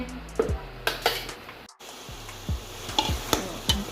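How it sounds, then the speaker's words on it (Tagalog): Ground beef fries in a pan for lasagna while a utensil stirs it, giving soft sizzling under a few sharp clinks and taps against the pan. The sounds are close and fairly quiet, with no talking. "Haluin ulit natin."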